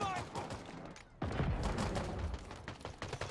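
Gunfire rings out in a Halo match, with a short burst of shots at the start, a brief lull, then a dense, loud volley of rapid shots and impacts continuing to the end.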